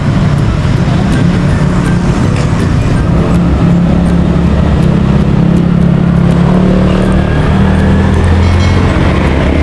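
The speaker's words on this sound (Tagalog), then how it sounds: "Ito, tricycle." A motorized tricycle engine passes on a street, a steady low rumble with a faint drone rising slightly mid-clip over continuous road noise, no talk.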